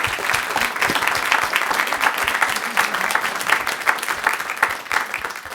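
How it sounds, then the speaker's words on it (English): Close, loud applause from an audience thanking panelists at a discussion on housing costs in Massachusetts, a dense, continuous wash of many hands clapping that holds strong before easing slightly at the end. "It's not an unenthusiastic clap."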